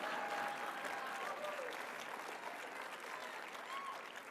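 A large CPAC 2019 conference audience claps continuously, a dense, even roar of hands that holds steady throughout, with a faint tone ringing briefly beneath it.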